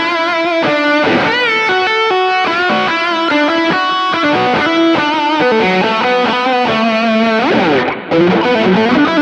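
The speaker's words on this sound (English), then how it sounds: "And we kind of just go for it with the lead sounds because we can stack gains and just make it big." Electric guitar rock solo with stacked gain stages and stereo delay, a loud, continuous distorted lead line with bends and sustained notes running without pause.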